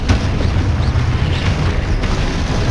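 Spell explosions from the Hogwarts Legacy video game, with a Confringo fire spell among them: a dense, continuous run of loud booms and blasts with no break, heavy in the low end throughout.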